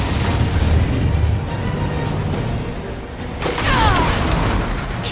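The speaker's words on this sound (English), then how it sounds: "Keep up the barrage." Barrage explosions during a space battle in Marvel's Guardians of the Galaxy: a sustained low booming rumble of blasts, fairly loud, with a brighter crackling surge toward the end.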